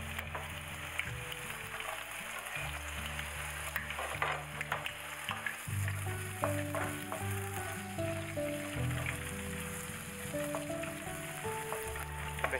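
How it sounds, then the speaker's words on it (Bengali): Onion and green chili fry in hot oil, making a constant crackling sizzle with occasional stirring clicks, heard over steady background music. "তেলটা গরম হয়ে গেলে আমরা পেঁয়াজ আর কাঁচামরিচটা দিয়ে দিই।"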